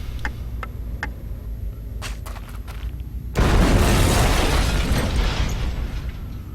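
A bomb goes off in the video game Syberia, a sudden loud, broad blast at mid-clip that keeps roaring and rumbling to the end, after quieter ambient clicks and mechanical taps.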